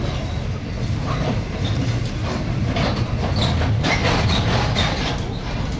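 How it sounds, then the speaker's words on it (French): Stainless steel RER-style electric suburban train near Melbourne, a loud, steady rumble of wheels and carriages with rhythmic clickety-clack over the rails and faint squeals, heard up close throughout. "Les trains du style RER sont en inox et apparemment exploités par la Comex."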